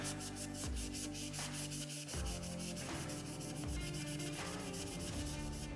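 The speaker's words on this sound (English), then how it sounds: "Get all the nice grooves there, and then give it a good sanding." Rhythmic back-and-forth scraping of a sanding block on surface filler over a hard surface, repeated strokes at a steady pace, close and alone.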